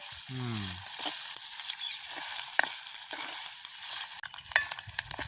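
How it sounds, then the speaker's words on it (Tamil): Onions stirred and fried in a pan over a village cooking fire, with a steady sizzle and scattered scraping clicks from a spoon. There is a brief voice-like tone near the start. "கடைசியாக வெங்காயம் வாங்கி நல்லோட கிண்டி விடுவோம்."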